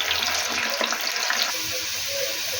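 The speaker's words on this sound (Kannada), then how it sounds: "ಚೆನ್ನಾಗಿ ಎಣ್ಣೆಯಲ್ಲಿ ಕರ್ಕೊಳ್ಬೇಕು." Field beans (avarekalu) deep-frying in hot oil for a savory snack mixture, a loud, steady, dense sizzle and bubbling heard up close throughout.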